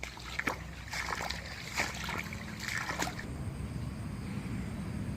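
Floodwater running along a stream beside flooded fields, a steady low rushing wash that stays moderately near, with a few brief louder splashes early on and no talk.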